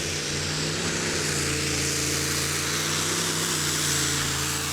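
Tractor pulling machine engine roaring steadily and loudly during a full pull on a Eurocup tractor pulling track at Bernay, a continuous heavy drone with strong low harmonics and no pauses.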